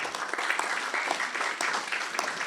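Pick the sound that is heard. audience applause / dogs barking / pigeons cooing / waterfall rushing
audience applause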